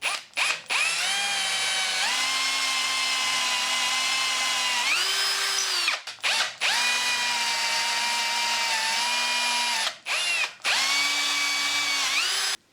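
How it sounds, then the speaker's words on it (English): A power drill bores an 8 mm hole through metal clamped in a vise, its motor whining steadily with pitch shifts as the bit bites, broken by a few brief pauses across the run. "I can put that in the vise, and I can drill an 8 millimeter hole through there and through the bottom"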